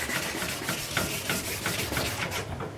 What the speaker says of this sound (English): So I'm going to wet rub it.